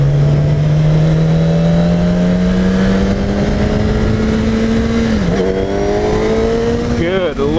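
A 2015 Kawasaki Ninja ZX-10R sport bike engine revs steadily higher as it accelerates on a street ride, its rising whine climbing smoothly before a quick shift dip and another surge of revs near the end, loud and close.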